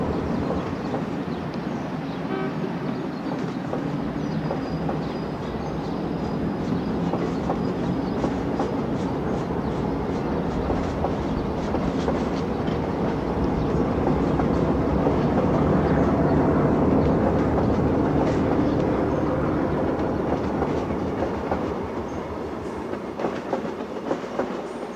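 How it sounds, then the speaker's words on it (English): An ALCo diesel locomotive hauls a train along the rails, its steady engine drone and rolling wheel noise filling the whole stretch, swelling slightly as it passes close. "the big ALCo shows its heritage as it resumes its journey to Jamaica"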